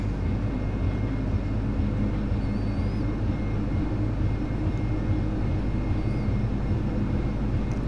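Steady, loud roar of Q400 turboprop engines during a takeoff roll in a flight simulator, a continuous broadband drone with no change in level and no voices over it.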